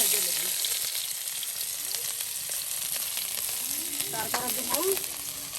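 Onion, garlic and green chilli fry together in hot oil with a steady, dense sizzle throughout, plus a few faint scraping stirs near the end.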